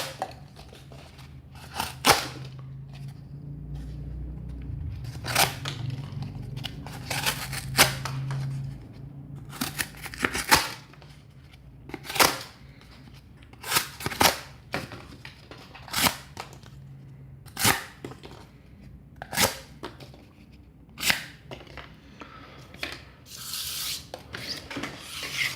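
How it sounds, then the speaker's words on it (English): A Tramontina slip joint pocket knife slicing cardboard paper, giving a series of short, sharp rasping cuts and scrapes in irregular bursts, close and fairly loud, with no talk. "Now let's try to cut more paper again."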